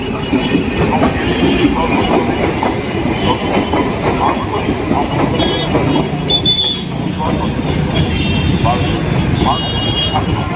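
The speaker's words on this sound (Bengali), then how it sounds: "যদি ট্রেন আসছে দেখ" A train rumbles past close by at a large railway junction station, seen from a flyover, loud and steady, with metallic wheel squeal and clatter throughout and some voices faintly underneath.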